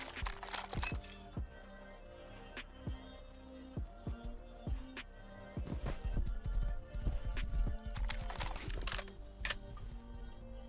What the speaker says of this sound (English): That's the M2 horse.